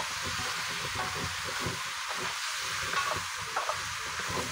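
Sayote and squash sautéing in a pan while being stirred steadily, a continuous close sizzle with soft scraping strokes of the stirring utensil throughout.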